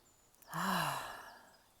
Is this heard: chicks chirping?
no